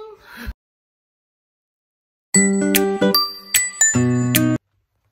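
A bright chiming sound effect, several rapid tinkling dings ringing together for about two seconds after a short pause.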